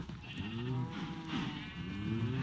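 Cows mooing in Minecraft near a farm barn, several drawn-out lowing calls overlapping one after another, fairly loud and close with no talk.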